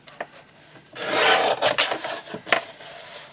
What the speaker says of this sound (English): I'm going to trim this down so that it's straight